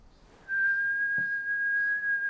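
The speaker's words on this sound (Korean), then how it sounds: "여기저기를 흔드는 날카로운 휘파람 소리." A single sharp, high whistle starts abruptly and holds one steady pitch for about two seconds, clear and close, with a brief low thud midway.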